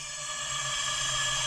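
Air blasting out of the intake of a 2005 VW Golf 2.0-litre engine during a cylinder leak-down test with the piston on its intake stroke, a steady, loud, close hiss that stays even throughout.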